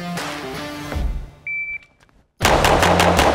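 A Glock pistol fired in a fast bill drill on a shooting range: a brief voice and a shot-timer beep, then a quick, loud, close string of shots running together in rapid succession.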